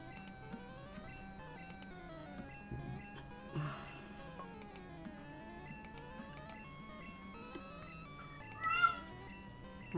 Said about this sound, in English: I assume that was a cat meow.